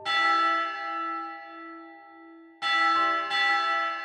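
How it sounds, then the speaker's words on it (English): An ancient bell in an old house rings with a bright metallic clang and a long humming decay, then strikes twice more in quick succession near the end, loud and alone. "the house's ancient bell started to ring"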